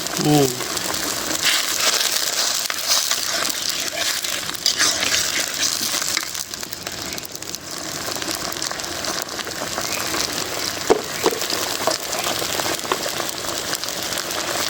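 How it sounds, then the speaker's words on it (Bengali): Dry cumin is ground on a flat stone slab, a continuous gritty scraping and crunching rub, close and steady, with a voice talking over it. "এই যে শুকনো পাটায় জিরা গুঁড়া করছি"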